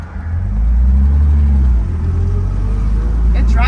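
A 1962 Jaguar XKE convertible cruises along, its engine a steady low rumble close by with a mild swell in pitch, while people talk over it.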